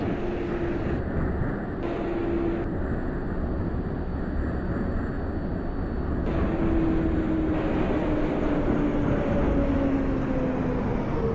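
An R142A subway train on the 6 local line toward Parkchester runs steadily in the OpenBVE train simulator game, a continuous broadband rumble with rising and falling motor whine tones throughout.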